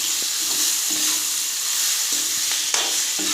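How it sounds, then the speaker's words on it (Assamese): Turmeric, oil and salt marinated chicken sizzles steadily in a hot pan, a close, continuous frying hiss with a few soft stirring clicks and no talk. "এতিয়া মই এই হালধি, তেল আৰু নিমখ অকণমান দি সানি থোৱা এই মাংস চিকেন দি দিছোঁ।"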